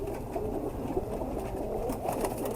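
Deep-coloured pigeon giving low, soft cooing calls close by, a steady murmuring coo that continues throughout without any talking.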